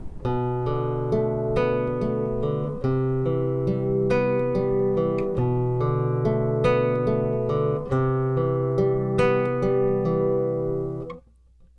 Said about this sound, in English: Alright, the first chord progression sounds like this.